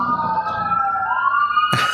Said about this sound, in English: there was a fire truck just drove by